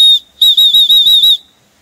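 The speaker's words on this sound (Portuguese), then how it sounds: "Então eu sempre trago esse apito, eu aconselho todo mundo a comprar." A safety whistle carried on a hiking trail sounds close and loud: one short blast, a brief pause, then a run of rapid trilling chirps before it stops.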